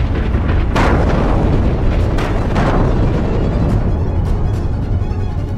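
Supertech twin towers controlled demolition blast: a loud, continuous roaring rumble of explosions with sharp bursts layered over a dense low boom that fills the whole stretch.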